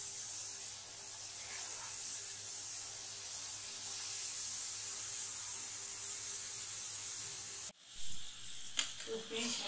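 Thin potato wafers hiss in hot oil in a pan for a long steady stretch, then a sudden break with scraping and clattering as they are turned.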